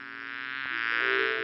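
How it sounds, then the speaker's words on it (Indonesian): A bee buzzes as it flies into a room, a steady, close, high drone that grows slightly louder, alone with no voices. "Tapi saat itu, seekor lebah masuk."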